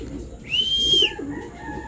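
A pigeon gives a short cooing call over a low background murmur, a single brief rising-and-falling note heard close.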